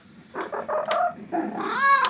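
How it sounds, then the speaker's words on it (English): A cat lets out a run of chirpy, questioning vocalizations, trills and short meows, ending in a rising, drawn-out call, close and fairly loud. "Like no other cat makes these sounds."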